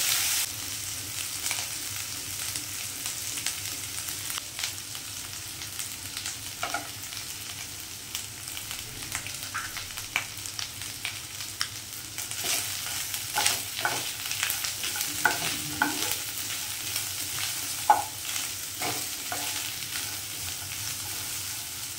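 Coconut pieces being stirred and fried in a pan for a coconut curry, a steady sizzle with repeated scraping strokes of the spoon that grow busier later on, close and without talking.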